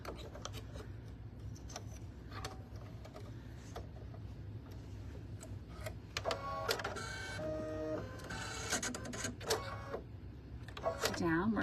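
An embroidery machine stitches a satin border around an appliqué heart, a steady rapid mechanical chatter up close, with a voice talking over it in the second half.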